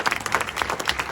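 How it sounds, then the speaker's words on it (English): Audience applause at a screening discussion with Bill Clinton: a short burst of scattered clapping with uneven, rapid claps, moderately close and heard without talk. "please applaud that"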